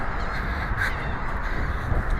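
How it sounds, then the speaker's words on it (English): Seagulls calling as they fly around at sunrise near the Arthur Ravenel Jr Bridge, a harsh caw or two standing out faintly against a loud, steady wash of wind or water noise. "the seagulls are flying around"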